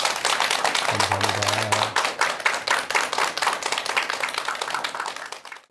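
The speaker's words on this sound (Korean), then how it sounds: "여러분 큰 박수 부탁드립니다." An audience at a lecture welcomes the speaker with brisk, crisp clapping that gradually thins and fades toward the end, while a voice briefly speaks early on.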